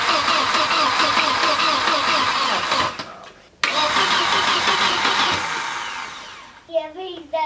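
A 1989 Volvo 760 Turbo engine cranks and catches, running loud and close for several seconds, cutting out briefly, then roaring again before settling as a short burst of voices comes in near the end.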